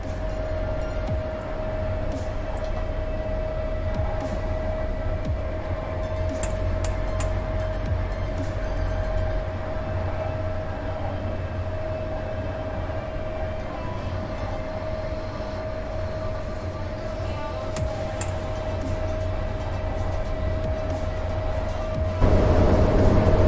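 A locomotive runs along the line in the MaSzyna train simulator game, with a continuous rumbling rail drive and a steady tonal whine, occasional clicks over the track, and a louder surge near the end.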